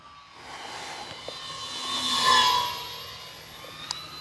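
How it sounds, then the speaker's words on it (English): An Avios Twin Otter 1600mm RC model plane flies past outdoors, its electric motor whine swelling as it comes nearest, then fading away at moderate loudness. "This plane gets off into the air in no time at all."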